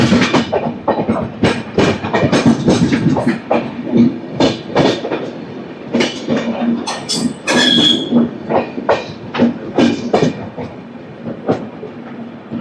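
An AC superfast express train between Visakhapatnam and Secunderabad rolls along the tracks, loud and close, with rapid clattering wheel-on-rail beats and occasional high squeals over a continuous rumbling roar.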